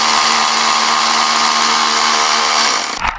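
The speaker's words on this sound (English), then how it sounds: "This is where this ratchet really comes in handy." A ratchet spins to back off the belt tensioner bolt in a Subaru engine bay, giving a loud, steady, close motorized whine for nearly three seconds before it winds down and stops.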